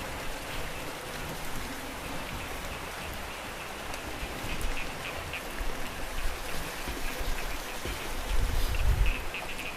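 Steady rain falling and pattering on surfaces outdoors, a soft continuous hiss with a faint rumble building near the end, no voices.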